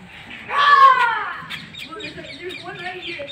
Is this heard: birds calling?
yes